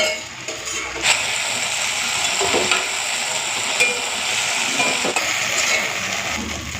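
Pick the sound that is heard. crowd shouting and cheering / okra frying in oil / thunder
okra frying in oil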